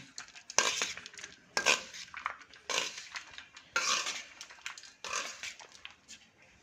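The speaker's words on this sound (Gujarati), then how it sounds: "અને આને આપણે મિક્સ કરી દઈશું સ્ટફિંગને." A spoon scrapes and stirs palak paneer paratha stuffing mixed with grated coconut in a bowl, in close, irregular clinks and scrapes that come in about five short bursts.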